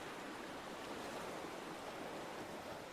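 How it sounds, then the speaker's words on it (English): Ocean waves and ripples as a steady, dense wash of broadband water noise with no distinct breaks, heard alone at a soft, even level throughout. "Listen to the ocean. Every ripple different than the last."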